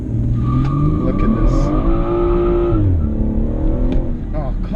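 A 2017 BMW 440i M Performance launches at full throttle, its engine note climbing loud and steady through the revs with some tire noise, while people talk over it inside the car.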